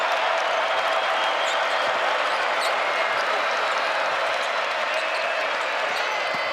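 Basketball arena crowd roaring after an easy dunk in a college game against Navy, a dense, steady wall of cheering and applause that holds loud and continuous throughout without letting up.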